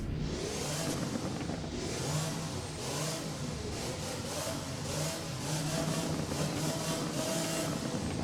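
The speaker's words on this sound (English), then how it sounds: "let's do the revving, which is the best part" Car engine in the video game Driving Empire revs repeatedly in neutral, rising and falling in steady surges with a throaty mid-range tone, continuous and close with no voices.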